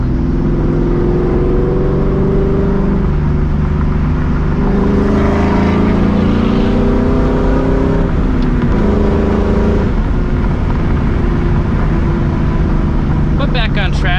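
A New Edge Mustang GT with aggressive 4.10 gears drives through town, its engine droning loudly and steadily from inside the cabin with rising and falling revs, and a voice talks over the engine throughout.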